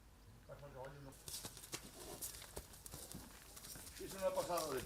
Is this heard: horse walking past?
yes